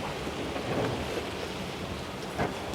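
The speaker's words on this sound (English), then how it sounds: "Now it starts to rain" Steady rain falling outdoors in Tiruvannamalai, India, a continuous broadband hiss with soft patters and faint low rumbles, moderately loud and alone without voices.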